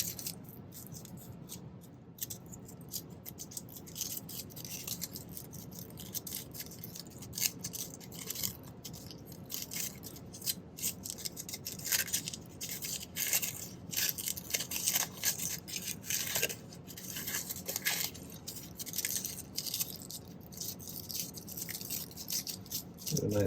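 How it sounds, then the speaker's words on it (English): Tin foil crumpled by hand to make a texture for a rolling mill, a close, continuous crackling rustle that runs for over twenty seconds without talk. "I have some tin foil here. Let's crumple that up."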